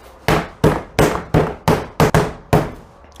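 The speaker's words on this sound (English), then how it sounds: "the dual purpose of pounding it, of course, is to make it a little bigger, and in the process of making it bigger, we're also tenderizing it by hammering it" Beef flank steak under cling wrap pounded with a meat hammer to tenderize it: eight loud, evenly spaced thuds with short decays, close up and alone.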